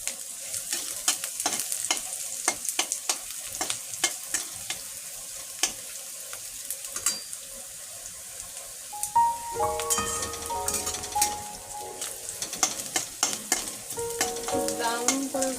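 Onions frying in a pan while being stirred, a steady sizzle broken by repeated scraping clicks of a spoon against the pan, with musical tones coming in during the second half.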